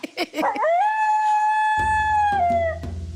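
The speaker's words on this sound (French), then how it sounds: "Eh oui, c'est le cri du dingo." A long, rising howl from a dingo, sustained and tonal, then trailing off, with a few short yips and rustles at the start and a low rumble underneath.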